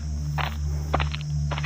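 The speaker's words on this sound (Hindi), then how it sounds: "उसके आने की आहट से अमोल को सुनाई दी।" Footsteps approach over a steady low mechanical hum in a horror story scene, with three or four soft, distinct steps at an unhurried pace and nobody speaking.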